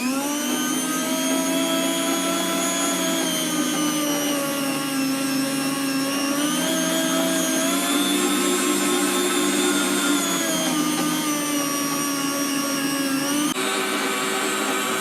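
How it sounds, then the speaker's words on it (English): An electric food slicer cutting beef for smoked jerky runs with a loud, steady motor whine that holds without a break, its tone shifting slightly near the end. "If you're doing this with a knife or with a food slicer, always slice against the grain of the beef"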